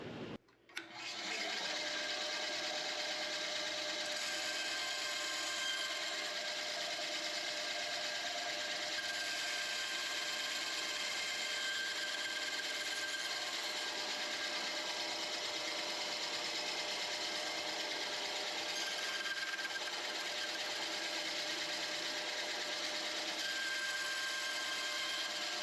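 A bandsaw cuts through a ring, a continuous close grinding, rasping whine that runs steadily for the whole stretch after a brief start.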